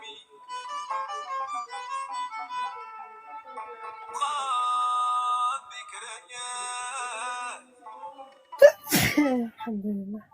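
One abrupt, loud sneeze from a person follows several seconds of tonal, melodic music-like sounds, with brief talk after it.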